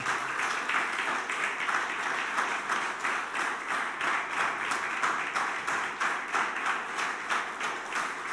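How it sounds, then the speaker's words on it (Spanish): A church congregation applauds in rhythmic, pulsing unison claps that stay steady and fairly distant for several seconds, with no voices over them. "dale tu mejor aplauso al Señor"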